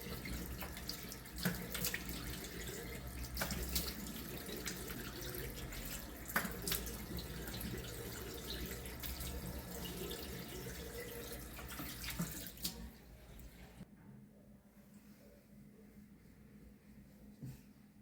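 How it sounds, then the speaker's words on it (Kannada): Water runs steadily from a tap into a sink while someone washes their face, splashing softly under the stream for about thirteen seconds before the flow stops and the room falls quieter. "ಈಗ ನಾನು ಮುಖ ತೊಳ್ಕೊಂಡು ಬಂದು ನಿಮಗೆ ತೋರಿಸ್ತೀನಿ"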